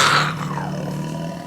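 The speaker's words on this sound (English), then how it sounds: "I always love the sound of the roar of a lion" A lion's roar bursts out loud and close, then trails off into a deep, grainy rumble that fades over about a second and a half. No voices accompany it.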